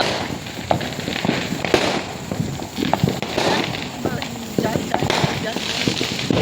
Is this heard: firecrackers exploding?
yes